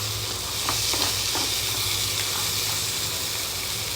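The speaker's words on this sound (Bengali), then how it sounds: "এবার আমি জল দিয়ে দেব।" Crab curry sizzles and hisses in a pan as water goes in, a dense steady frying noise with a few faint stirring scrapes and no voices.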